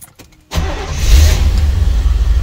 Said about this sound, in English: Dad's gonna get it started and we're gonna see if it overheats.